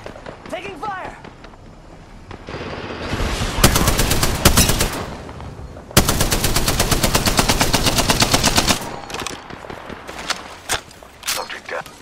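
Bursts of automatic weapon fire from the Apex Legends video game rattle in rapid sustained volleys, mixed with footsteps and game character voice lines.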